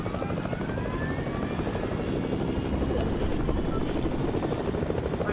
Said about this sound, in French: je vais reposer mon hélico parce que il est un peu mal placé là